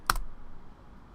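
A single short burst of computer keyboard typing, a quick cluster of key clicks close to the mic, followed by quiet room noise.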